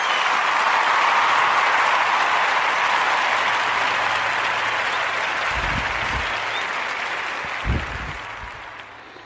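A motivational talk audience breaks into sustained applause, a thick, even roar of many hands that slowly fades, with a couple of low thumps near the end and no voices.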